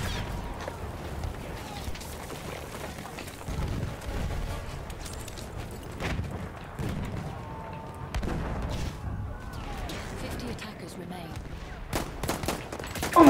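Pistol gunfire in the first-person shooter Battlefield 1, a dense stretch of shots and distant battlefield explosions running throughout at a fairly steady level, with bursts of louder fire near the end.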